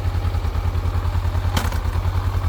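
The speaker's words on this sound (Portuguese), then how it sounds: "vou engatar a marcha na moto aqui agora. É um barulho que fez." A Honda 500X motorcycle engine idles steadily with a low rhythmic thrum, broken near the middle by one short, sharp metallic clunk as the gear engages.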